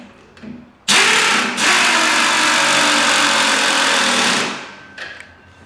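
Power tool tightening the shock bolt on an EZGO TXT golf cart during a lift kit install, one loud, steady whirring run of about three and a half seconds, with a brief burst just before and after.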